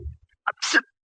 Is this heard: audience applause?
no